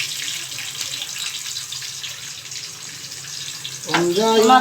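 A kitchen tap runs steadily as hands are washed, a constant close rush of water, and a voice briefly breaks in near the end.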